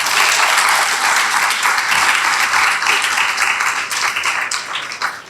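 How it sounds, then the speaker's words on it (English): A loud, dense round of applause from the audience at an academy graduation, sustained clapping from a large crowd close by that tapers slightly toward the end. "So please give a big round of applause."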